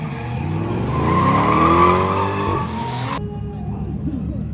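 A Chevrolet Lumina drift car slides at a night drifting event, its tires squealing loudly over a revving engine for about three seconds before the squeal cuts off and engine rumble with crowd noise carries on.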